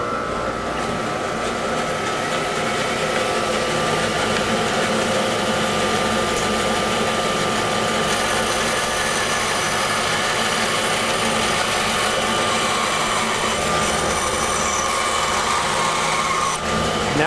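Wood bowl blank having its ends cut off with a power tool, a loud, steady cutting whine running continuously throughout, close by, with no talk.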